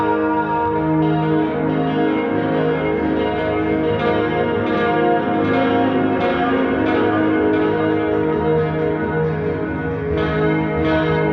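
An electric guitar plays clean, chiming chords through the STL Tonality plugin's amp, based on a Roland Jazz Chorus, its notes ringing bell-like with thick chorus and echo, loud and continuous.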